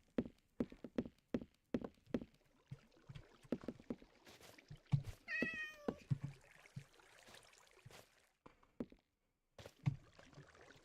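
A black cat in a Minecraft-style game gives a short mewing call amid clicks and footsteps, followed by more soft clicks and movement noises.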